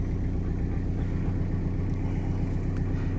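Steady low engine rumble inside a moving car on a shopping trip, a continuous mid-pitched hum with road noise and no talk.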